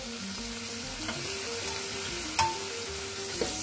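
Steady crackling sizzle of brinjal (eggplant) frying in hot oil, with a couple of sharp spatula clinks against the pan.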